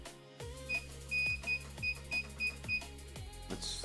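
An electronic buzzer on a small embedded board, run at around 3.3 to 5 volts, sounds a rapid run of regular beeps over a steady electronic hum and ends in a brief, brighter tone.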